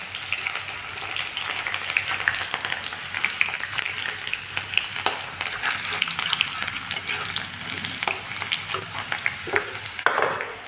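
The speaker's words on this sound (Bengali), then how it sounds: "আদা রসুন জিরা বাড়ছি, মশলাটা ভালো করে ভেজে নেব।" Ginger, garlic and cumin spice paste frying in hot oil with chopped onion, a constant crackling sizzle dotted with sharp pops and stirring scrapes, close and busy throughout.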